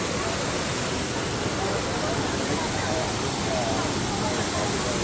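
A Hawaiian waterfall along the Road to Hana roars as a loud, steady, unbroken wash of falling water, close by and filling the whole stretch with dense rushing noise.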